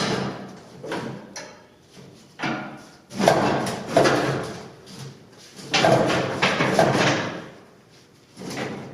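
Metal clunks, scrapes and thuds as the tailgate of a 1962 Ford F100 unibody truck is pried open, coming in irregular bursts with quiet pauses between efforts, close up.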